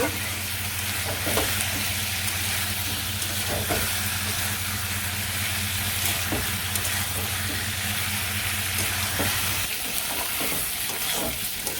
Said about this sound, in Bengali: এটা ভালো করে আমি কষিয়ে নিব তারপর দিয়ে দিব